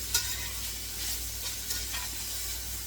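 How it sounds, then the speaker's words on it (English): Peppers and onions sizzle in a skillet with browned hamburger for a Hawaiian beef and rice dish, a steady close hiss with a few light stirring clicks and a low hum underneath. "I'm going to put these peppers and onions right down in here"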